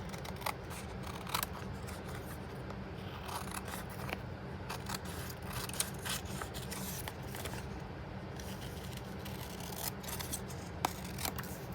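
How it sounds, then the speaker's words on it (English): Snips cut paper along an envelope edge, a quiet, close run of rapid crisp snipping clicks with light rustling of paper between them. "I can bring in my snips, and your snips will just kind of follow the edge on that envelope really easy"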